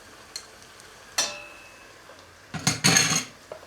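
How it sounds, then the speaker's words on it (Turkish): A utensil scrapes and clanks in a pot while tomato and pepper paste is sautéed with caramelized onions for an oxtail chickpea stew. A few sharp knocks are followed by a burst of scraping and faint sizzling, close by, with no talking. "Evet, bunları da kavuruyoruz güzelce."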